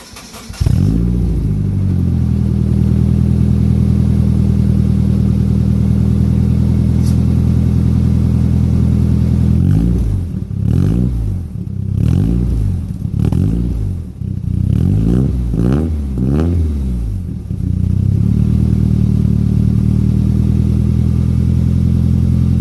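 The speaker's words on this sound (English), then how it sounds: "I'm going to just start it up for you guys for one last time" A Nissan 240SX drift project car engine cranks and starts, settling into a loud, steady idle before a series of sharp revs in the middle, then dropping back to an even idle, heard up close with no talk.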